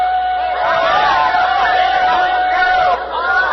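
A festive crowd cheers and shouts beside the tracks as the small Tom Thumb steam locomotive arrives with passengers in an open carriage, a loud, continuous roar of voices with a steady tonal hum beneath.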